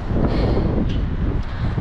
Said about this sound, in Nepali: म यहाँनिर सरर हावा चलेको छ